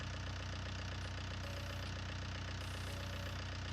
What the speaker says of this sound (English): That Fiat is a lovely little tractor.